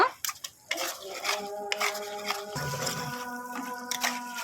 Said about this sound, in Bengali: আমি ভালো করে নেড়ে চেড়ে কষিয়ে নেব